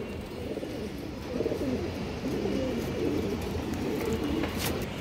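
Domestic pigeons coo steadily close by in a loft or sale pen, a continuous low, throaty murmur of overlapping calls with no pauses and no voices over it.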